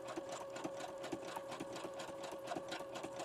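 A sewing machine runs steadily, stitching through the layered grocery-bag cover of a junk journal, its fast needle strokes forming an even, close rhythm throughout.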